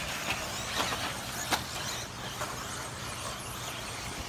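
2WD RC cars in a club B final on a dirt track with doubles and a tabletop, their buzzing motors blending into a steady broadband whine with brief spikes as they land, fairly close and continuous.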